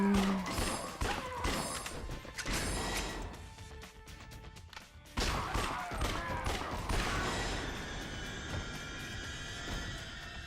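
Gunfire in the Yakuza Dead Souls video game crackles in rapid, dense bursts of shots mixed with thuds and crashes, fairly quiet overall and continuing over game sound.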